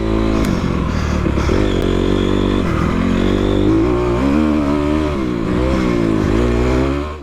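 An enduro motorcycle races through woods and single track on moist soil at the TSCEC Diamondback 2019 event, its engine loud and close throughout, revving up and down with steady gear changes and no talking.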